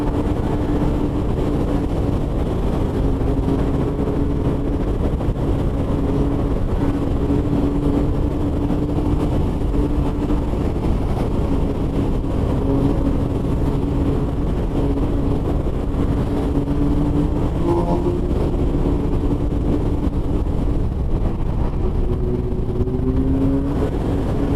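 Steady car traffic rumbles through a road tunnel in Lyon during a traffic jam, a continuous low, dense drone of engines with no distinct passing vehicles standing out.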